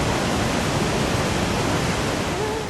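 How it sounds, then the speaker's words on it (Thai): Haew Narok waterfall, the largest and tallest falls in Khao Yai National Park at over 150 metres, gives a steady, loud broadband roar of rushing water with no talking. "น้ำตกเหวนรกเป็นน้ำตกขนาดใหญ่และสูงที่สุดของอุทยานแห่งชาติเขาใหญ่"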